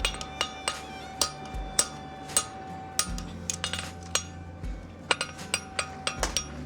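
Steel bar for a horseshoe eggbar being hammered on an anvil, a steady series of sharp metallic ringing strikes, some in quick pairs, close and fairly loud with no speech.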